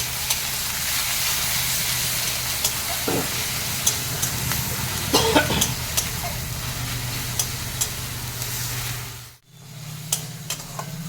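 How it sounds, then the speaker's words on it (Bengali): Onion paste fries over a low gas flame in a pan for a Bengali rajma recipe, a steady close sizzle with occasional stirring scrapes and a brief drop near the end. "পেঁয়াজটা ভাজা হচ্ছে"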